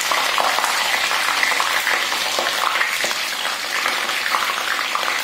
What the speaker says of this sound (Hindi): जब आप शिमला मिर्च डालते हो तो तेल जो है वो काफ़ी खटकता है